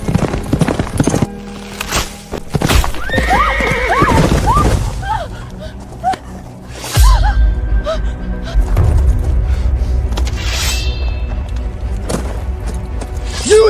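A horse on a dramatic period set clip-clops with steady hoofbeats and a brief whinny, heard amid loud booming music, thuds and some voices.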